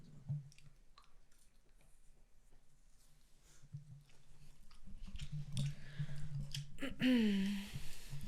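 Mexican candy and peanuts are chewed close to the microphone in ASMR style, giving soft, irregular crunching and mouth sounds that grow louder near the end, with faint talk in the background.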